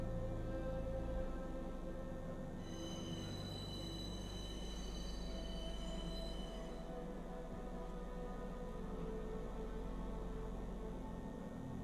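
A train passing in the video game Star Citizen gives a steady, continuous rumbling hum with sustained mechanical whining tones across the whole stretch, with no talk.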